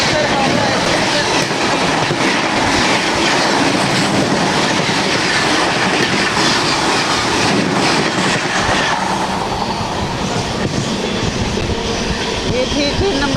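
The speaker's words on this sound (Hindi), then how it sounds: "ये थी train number 13006 Amritsar Howrah mail." Amritsar Howrah Mail express train passing on an Indian railway, heard from an adjacent train as a loud, continuous rush of wheels and rhythmic clickety-clack over the rails.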